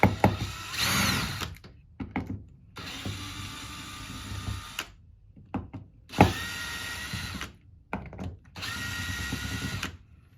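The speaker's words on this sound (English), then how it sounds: "you need to flip the pump, and there are 4 screws here. Unscrew them." Power drill or driver backs out four screws from a Hydro LM pump in several separate whirring bursts with pauses between them, close and fairly loud, no talk.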